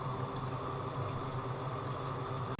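Masala fries and bubbles in oil for chicken kofta curry, a steady, close sizzle with a constant hiss and low bubbling, uninterrupted and unvoiced.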